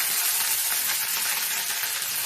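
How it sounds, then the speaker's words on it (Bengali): Okra fries in a pan for chachchari with a loud, dense, continuous sizzle and occasional stirring. The hiss is steady and close, with no voices. "এখন আমি দিয়ে দেব ঢ্যাঁড়স। ঢ্যাঁড়সগুলোকে দিয়েও ভালো করে আমি নাড়িয়ে চাড়িয়ে নেব।"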